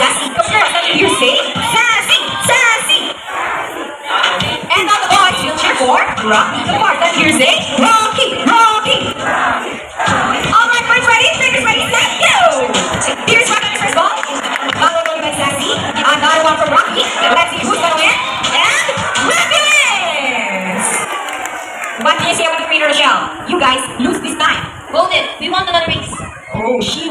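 A crowd of children shouts and cheers loudly at a live bird and sea lion show. Excited whoops rise and fall in waves, mixed with a voice talking over the noise throughout.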